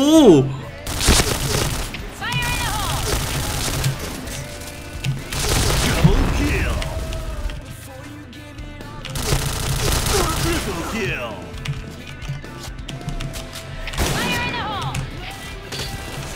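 Gunfire in the Point Blank shooter game, with repeated sharp bursts and single shots spread across the clip, loud and close, while players talk excitedly over the shooting.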